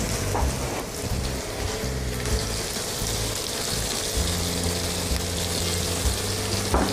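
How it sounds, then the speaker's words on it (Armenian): Mushrooms frying in a pan while being seasoned, giving a steady, close crackling sizzle that runs continuously with a few sharper pops. "Սունկը արդեն տապակվում է, հենց այս պահին համեմում ենք այն։"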